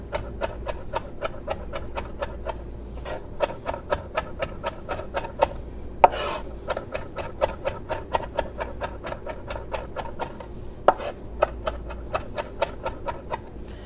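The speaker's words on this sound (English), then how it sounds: "But today we're just gonna mince everything together and make our salsa." A knife minces mango salsa ingredients on a cutting board in fast, steady, evenly spaced chops that run without a break, close and distinct, with no talking.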